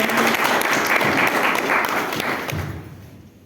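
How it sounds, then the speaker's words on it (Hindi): A seminar audience at a business meeting clapping loudly, a thick, close burst of applause with a few heavier thumps that tapers off and dies away near the end. "एक बार आप सभी लोग अपने सम्मान में जोरदार तालियां बजाएं"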